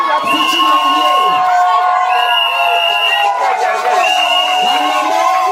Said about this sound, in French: Applaudissons s'il vous plaît pour la future mariée.